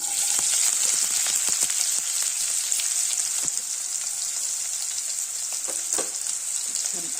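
Chopped onion sizzles steadily in hot oil with hing for a drumstick flower curry, a continuous bright frying hiss broken by small crackles and a few stirring clicks, close and loud with no talking.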